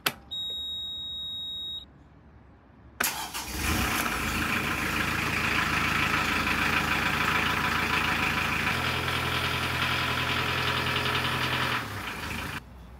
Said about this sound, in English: start the engine, put it into gear forwards and backwards, get the prop rotating at a good pace